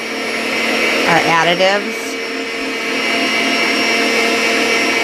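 An electric mixer whips a fluffy soap base with a steady loud whirring drone and a brief rising whine partway through, while someone talks over it.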